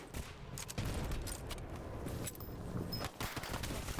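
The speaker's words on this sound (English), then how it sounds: "Here, I'm just gonna lob some grenades." Grenades and gunfire go off in a firefight in the video game S.T.A.L.K.E.R. GAMMA. Dense, overlapping bursts of shots and blasts run almost without a break, with a few brief lulls between volleys.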